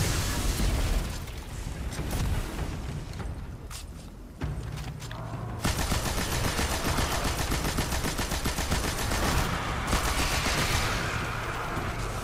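Loud, dense bursts of automatic gunfire and booming impacts from a Destiny 2 The Final Shape legendary campaign fight against an ogre, with rapid rattling volleys running nearly continuously and sharp explosive hits breaking through.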